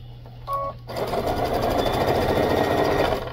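A sewing machine stitches bag seams, running steadily and close with a rapid mechanical chatter after a brief clicking start, a low hum underneath throughout.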